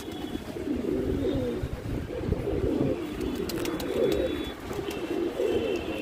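Pet pigeons cooing continuously in a low, throaty murmur from several birds close by, set out with water for bathing, with faint higher chirps and no talking.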